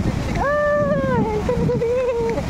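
Steady broadband roar of Shifen waterfall in Taiwan fills the background while a person speaks over it.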